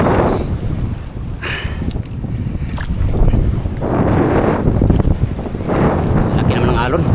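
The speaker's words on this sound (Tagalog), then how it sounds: "Laki naman ng alon." Wind and ocean waves buffet a small fishing boat out at sea, a steady loud rush with surging swells and gusts hitting the microphone, while someone speaks briefly over it.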